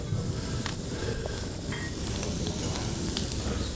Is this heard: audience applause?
no